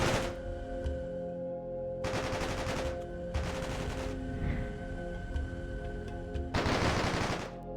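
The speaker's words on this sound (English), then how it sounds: "Oh, there comes the shot. Shooting." Bursts of gunfire from a sci-fi real-time strategy game set in a floating space city, coming in several dense rapid-fire volleys of a second or so each over a steady game soundtrack drone.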